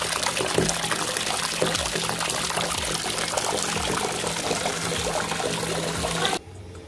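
Hot water runs into a bathtub in a steady, close rushing pour with faint trickling detail, then cuts off abruptly near the end, leaving quiet room tone.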